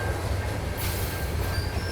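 Model scale trains roll around a layout curve, a steady low rumble of wheels on track with faint squealing and a thin high whine, continuous and fairly close.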